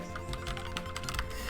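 Rapid computer keyboard typing, a steady run of close, crisp key clicks with irregular bursts and no voices over it.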